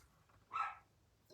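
A dog begging for treats gives a single short, muffled bark from some distance, faint against a quiet room.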